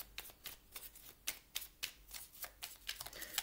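Tarot cards are shuffled and drawn, a quiet close sequence of crisp riffling flicks and slaps repeating at an uneven rhythm, with no one speaking.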